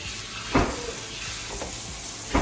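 Water rinsing paint out of a paint sprayer's strainer, a steady close hiss of running water with a couple of louder splashing bursts, no talking.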